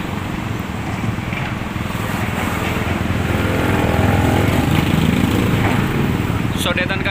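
An excavator engine runs as the machine loads mud into a truck at the Ciliwung river diversion to the East Flood Canal. A continuous, close diesel rumble swells slightly in the middle and holds steady throughout.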